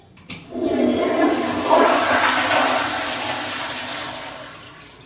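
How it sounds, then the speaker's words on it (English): A toilet flushing close by: a click of the handle, then a loud rushing swirl of water that slowly tapers off over several seconds. "Then we're going to look at the toilet. We're going to flush it."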